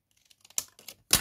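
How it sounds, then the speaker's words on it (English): Scissors snip through paper scraps while making a handmade card, giving a few short crisp cuts that build to a louder, close final snip with no talking. "now I'm just going to cut this off"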